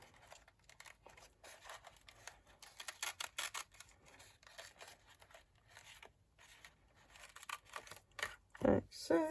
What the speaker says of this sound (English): so there's the scissors gone. Give that a little snip